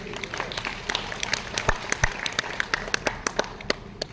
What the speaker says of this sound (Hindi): जोरदार तालियां चाहूंगा सर के लिए।